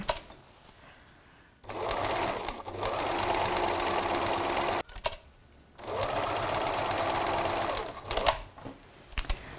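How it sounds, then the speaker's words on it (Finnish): A sewing machine stitches a patch onto denim trousers using a wide, short zigzag stitch, whirring steadily and loudly in two long runs that stop briefly between them, with a few soft handling knocks. "mutta mä nyt vaan ompelen tämän"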